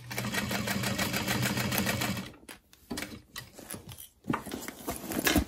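A sewing machine runs fast and steady while top stitching a satchel bag, then breaks into short stop-start bursts with brief pauses between them, close and clear with no talking.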